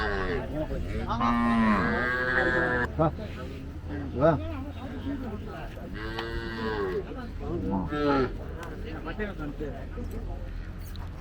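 Cattle at a Palayakottai native cattle market low and moo repeatedly, with several long drawn-out calls from nearby animals, while people talk throughout among steady market background noise.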